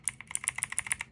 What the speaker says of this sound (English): Keys are very clicky.